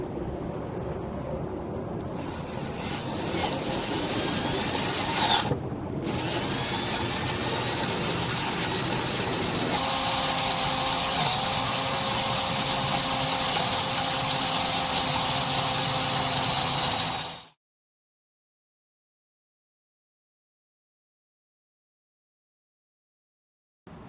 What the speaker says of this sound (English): when you start drilling into it, sometimes the bit has a tendency to catch a little bit.